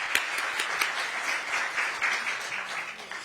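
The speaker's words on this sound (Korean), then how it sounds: "두 분께 박수 한번 크게 부탁드립니다." A Korean political gathering's audience claps for two organizers, a dense, steady wash of applause with a few sharper claps standing out near the microphone.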